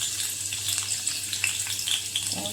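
Hot oil sizzles steadily in a pan before eggs are cooked in a kharda chilli paste, a close, bright frying hiss with small crackles and spits, no one speaking.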